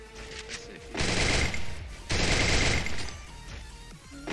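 Two long bursts of rapid automatic gunfire rattle loudly, separated by a short lull, with quieter game sounds around them and no speech.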